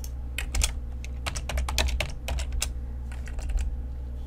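Quick, close keystrokes clatter on a computer keyboard as Excel VBA code is typed, with irregular bursts of clicks over a low steady hum.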